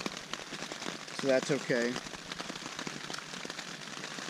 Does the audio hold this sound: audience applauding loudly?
no